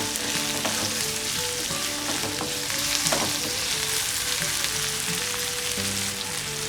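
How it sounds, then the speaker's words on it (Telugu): Chopped onion and green chillies fry in a pan with a steady, close, crackling sizzle and occasional stirring scrapes, continuous and without talk. "కట్ చేసుకున్న ఒక ఆనియన్ తరుగు, అలాగే కొన్ని పచ్చిమిర్చి సన్నగా తరిగిన తరుగు వేసి వీటిని కూడా ఒకసారి మగ్గించుకోవాలి."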